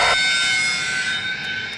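Passenger airliners parked on an airport tarmac, their jet engines giving a steady, loud whine and roar that holds evenly throughout.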